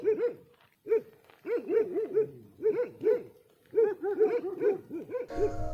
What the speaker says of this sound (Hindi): बाहर गए तो कुत्तों की भौंकने की आवाज़ सुनाई दी।